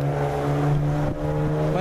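A steady low engine drone of passing road traffic fills the air, with a brief bump of noise partway through.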